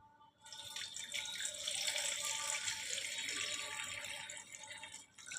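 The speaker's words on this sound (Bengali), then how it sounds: "জল দিয়ে দিলাম" Water streams into a glass of bel (wood apple) sherbet in a single close, steady pour lasting about five seconds, clear and alone, before it tapers off.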